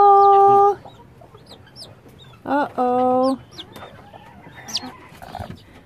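Chickens in a dark farm chicken coop, with a few harmonic squawks and short clucking calls bursting out close by, then quieter scattered bird chatter; a person speaks briefly.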